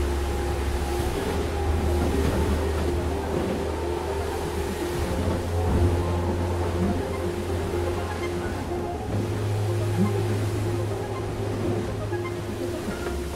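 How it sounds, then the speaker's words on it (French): Steady low rumble of water sloshing against boat hulls, with a constant engine-like drone underneath and no voices. "on entend le bruit de l'eau sur les coques"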